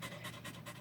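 A dog pants quickly and steadily up close after running at a dog park, a soft rhythmic breathy huffing with no talk.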